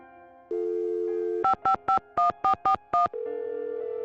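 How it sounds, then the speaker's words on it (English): A phone in the Nancy Drew game Secret of the Scarlet Hand picks up with a steady dial tone, then seven quick, crisp keypad beeps in an uneven rhythm follow before the tone returns. "Call Franklin Rose and be like, all right, get her out of jail"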